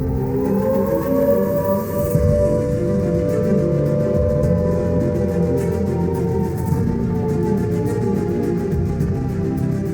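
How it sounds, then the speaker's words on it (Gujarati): An emergency siren at an industrial plant wails as a loud, sustained tone that drifts slightly lower in pitch over ten seconds, alone with no voices. "ઇમરજન્સીની પરિસ્થિતિ દરમિયાન તમામ કર્મચારીઓને ચેતવણી આપવા માટે ઊંચા અવાજે સાયરન વગાડવામાં આવશે"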